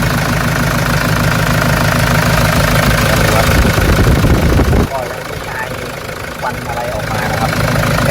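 A 2006 Toyota Vigo 3.0G with a 3.0 engine idles while warming up, a steady, loud low rumble with a slightly knocking rhythm, and someone talks over it for much of the time.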